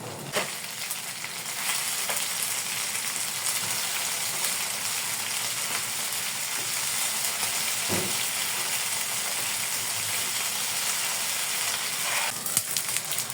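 Squid frying in hot oil in a pan gives a steady, loud sizzle throughout, with occasional crackles and pops from the stirred pieces.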